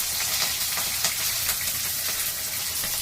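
Mixed vegetables, including eggplant, radish and beans, sizzling in a pan over tempered spices, a continuous close hiss with light stirring crackles and no voices.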